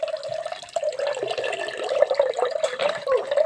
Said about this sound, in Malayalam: അതിനകത്ത് നമുക്ക് കുറച്ച് തണുത്ത വെള്ളം അങ്ങ് വെച്ച് കൊടുക്കാം.